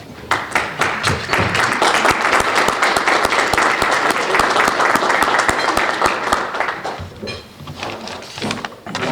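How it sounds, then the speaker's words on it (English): Rotarians at a scholars luncheon stand and give a round of applause, loud close-up claps with individual sharp hand strikes standing out, thinning briefly before picking up again near the end. "I ask all Rotarians to stand and join me in a round of applause and congratulations"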